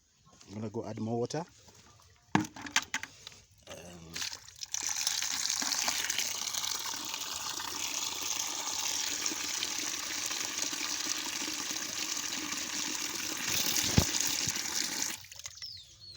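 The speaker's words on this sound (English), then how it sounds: "Okay, so I'm gonna go add more water." Tap water running into a container of paw paw seeds, a continuous rushing flow lasting over ten seconds after some brief handling sounds, with a person speaking early on.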